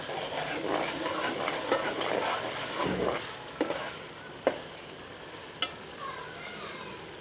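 An aloo keema mixture of potato and minced chicken sautés in a pan, a soft sizzle under stirring scrapes with a couple of sharp utensil knocks, fairly quiet overall.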